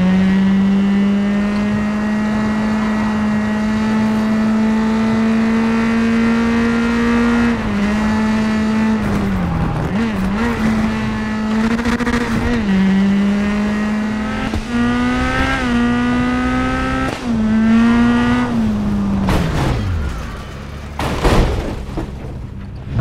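Rally car engine in the WRC 10 video game, a loud sustained drone with steady pitch, revving up and dipping through gear changes, then falling away near the end.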